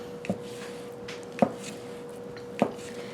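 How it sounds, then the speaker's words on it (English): A knife cuts thin slices of beef steak into small pieces on a board, making three spaced, dull chops about a second apart, each a crisp knock against a quiet kitchen background. "I'm going to cut them into really small pieces."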